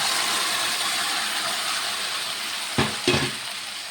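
Onions frying in a pan make a steady, bright sizzle from start to finish, broken near the end by two quick stirring scrapes close by. No one speaks.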